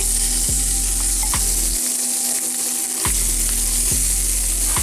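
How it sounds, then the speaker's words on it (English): Shrimp fry in olive oil in a hot cast iron skillet over high heat, with a loud, continuous sizzle and a few sharp clanks at regular intervals, close up and without talk. "So a little olive oil, and here are my shrimps. I'm just gonna pound them in."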